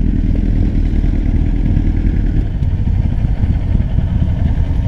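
A Kawasaki ZX250 motorcycle engine runs close by with a steady, loud, even rumble that stays constant throughout, with no talking.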